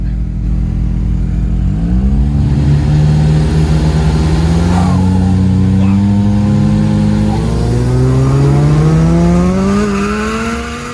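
Drag car launching and accelerating down an eighth-mile off-street drag strip, its engine note climbing loud and close through the gears across the whole stretch, with a brief shift dip midway.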